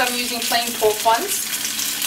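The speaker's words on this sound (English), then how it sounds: "Now I'm just going to fry my sausages." Plain pork sausages frying in a pan, a steady close sizzle with stirring clinks, while a person talks briefly over it.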